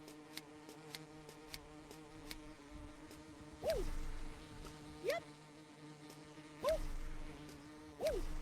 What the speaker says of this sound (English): Okay, we got these bees here.